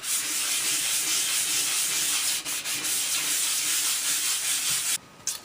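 A wooden pallet being sanded by hand with 100 grit sandpaper, giving a steady, loud, close abrasive rasp that runs almost unbroken and cuts off briefly near the end.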